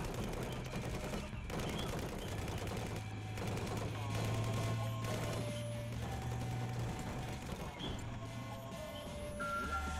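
Gunfire in the video game Battlefield Hardline: rapid bursts and volleys of shots crackle continuously, layered with game sound effects and a low droning background at moderate level.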